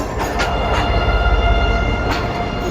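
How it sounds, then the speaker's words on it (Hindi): The Marvi Passenger train, hauled by locomotive 4801 on a Thar Desert line in Pakistan, rolls past close by with a loud steady rumble and a few sharp rail clanks, no voices. "तो ये 4801 के साथ GME 15 के साथ मुझे मारवी पैसेंजर ही लग रही है"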